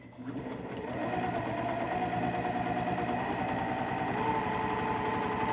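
A sewing machine runs steadily and close, stitching zipper tape for a pouch, its rapid even needle rhythm continuing without a break.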